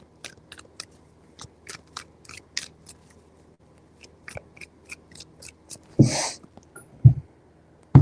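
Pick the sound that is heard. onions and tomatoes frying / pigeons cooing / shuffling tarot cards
shuffling tarot cards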